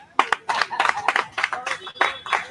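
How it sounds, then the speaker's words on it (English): A short burst of hand clapping from a crowd, uneven and moderately loud, rising and falling for a couple of seconds with no talking. "Please a round of applause for him again."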